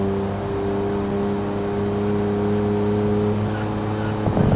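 A cheap, unstable homemade car in the BeamNG Drive racing game accelerates on a top speed run, its engine a steady, humming drone that holds level and shifts slightly near the end.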